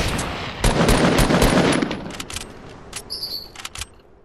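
Gunfire in the Fortnite video game, a burst of sharp shots clustered early followed by scattered fainter reports and game effects, with no talking.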